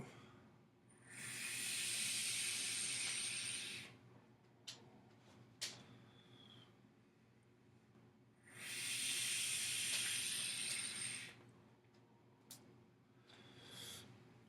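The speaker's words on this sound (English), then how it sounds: "Let's vape it." Vaping on a freshly built 0.55-ohm coil fired at 33 watts, two long steady hissing draws a few seconds apart, close and fairly faint, with small clicks and a short third draw at the end.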